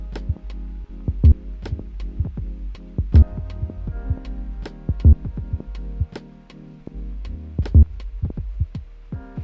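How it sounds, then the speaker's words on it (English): Bass line in FL Studio driven through Fruity Blood Overdrive distortion, a gritty, punchy low pulse with a rhythmic beat of sharp transients, loud and close, no talking. "Let's make it a bit more gritty with Fruity Blood Overdrive"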